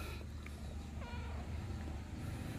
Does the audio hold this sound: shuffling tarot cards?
no